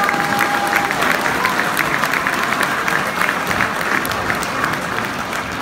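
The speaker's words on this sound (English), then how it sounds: "So big hand for our match mascots today." A football crowd at an Ayr United match applauds the match mascots, a steady, fairly loud wash of clapping that carries on evenly throughout.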